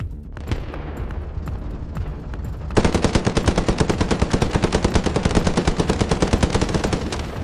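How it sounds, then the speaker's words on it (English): A T-27 tank's machine gun fires at a Ferdinand tank in a video game. The bursts start with quieter firing, then become loud, sustained rapid fire with sharp, evenly spaced shots. "the T-27 tank can damage its armor after several bursts of machine gun fire"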